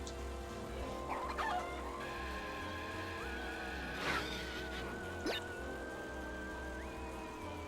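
Coco's chicken clucking taunt from Crash Tag Team Racing on PSP, a short run of game-style clucks and a crow-like call over a steady engine drone and game music.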